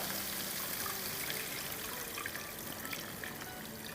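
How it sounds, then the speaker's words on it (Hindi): Two cups of water poured into masala cooking for a potato curry, a steady, close trickling pour lasting the whole stretch with no voices. "तो ये 2 कप पानी डाल दिया है और इसको मिलाएंगे।"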